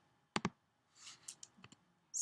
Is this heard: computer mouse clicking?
yes